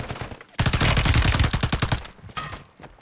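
Rapid automatic gunfire from the shooter game Warzone 3, a dense, loud burst of closely spaced shots lasting over a second, followed by a few fainter trailing shots and game ambience.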